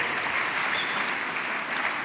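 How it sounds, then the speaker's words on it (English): Audience applause rings out at the 2016 Samsung Gear S3 launch event, a brief, steady round of clapping with no talk over it. "Let's give a round of applause to Arik and Mark and the rest of our guests."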